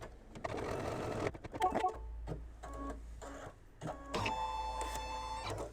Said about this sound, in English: I'm putting my fabric right sides together, and I'm going to sew this seam.